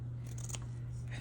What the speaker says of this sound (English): I'm gonna take my fabric scissors